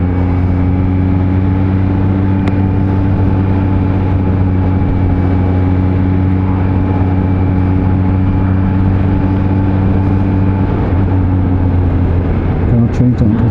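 Kawasaki Z H2 motorcycle from 2020, a supercharged hyper-naked, with its engine droning loud and close at steady high revs, the pitch held almost constant before a brief shift near the end.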